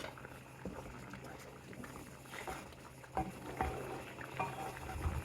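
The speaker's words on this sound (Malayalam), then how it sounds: "കറി നന്നായിട്ട് തിളച്ചിട്ടുണ്ട്." Dal curry bubbling in a covered pot, a faint, steady patter of small bursting bubbles with scattered soft pops throughout.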